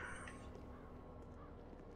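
A crow caws faintly in the Resident Evil 3 Remake video game, a quiet call early on over a low, steady ambient rumble.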